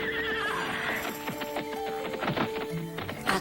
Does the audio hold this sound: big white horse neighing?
yes